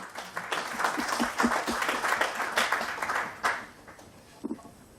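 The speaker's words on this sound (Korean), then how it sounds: "뜨거운 박수로 맞아주시기 바랍니다" An audience at a book launch event in Korea applauds to welcome a former National Assembly speaker: brisk, dense clapping for about three seconds that thins out and fades, leaving a few scattered claps.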